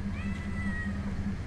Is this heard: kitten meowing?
yes